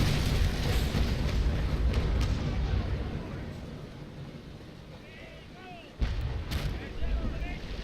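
Naval cannon fire in the Naval Action video game during a fleet battle, heavy low rumbling booms with a sharp new blast near the end, over wind-like noise.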